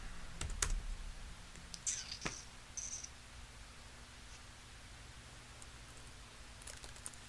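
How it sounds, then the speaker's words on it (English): A few sparse, faint keyboard clicks and taps early on, then near silence with low background hiss. "Typing."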